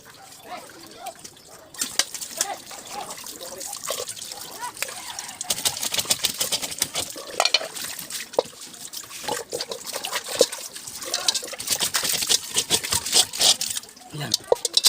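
Shrimp being washed in water for sinigang na hipon, close splashing and trickling with scattered clinks as the shrimp are rinsed by hand, a person talking over it.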